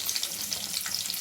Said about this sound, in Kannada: ಗೋಡಂಬಿ ಸ್ವಲ್ಪ ಫ್ರೈ ಮಾಡ್ಕೊಳ್ಳಿ